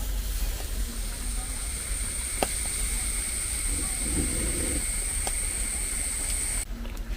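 Continuous hissing and bubbling of water boiling in a pot, steady throughout, with a couple of sharp clicks and a high whine in the background.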